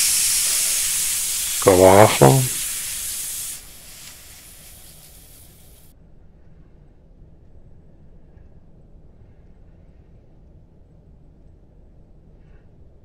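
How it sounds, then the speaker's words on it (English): In the Venba video game, steam sprays loudly from a cooking pot as a strong hiss for a few seconds, then cuts out to near silence, with a brief voice speaking over it. "once it's done cooking, it'll spray off and the steam thing will"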